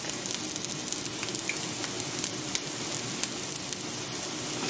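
Garlic and onion sizzling in a frying pan for a breakfast frittata, a steady close hiss of crackling oil with scattered tiny pops and no voices.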